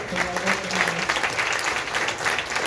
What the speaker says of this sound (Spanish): Otro fuerte aplauso al Rey de Reyes